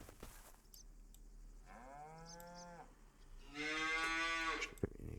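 Cows in a farming video game let out two long, drawn-out moos in succession, the second louder and brighter, heard fairly close with a faint click or two around them.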